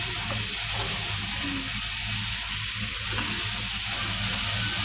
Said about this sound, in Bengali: ফুলকপি লাল লাল করে ভেজে নিয়েছি